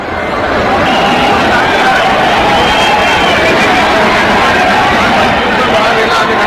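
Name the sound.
crowd at Prayagraj railway station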